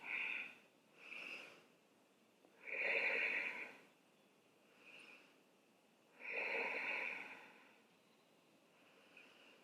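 Slow yoga breaths during a hatha yoga session, drawn in and let out through the nose with a soft rasp, five or six breaths spaced a second or two apart, close and quiet, with no talking.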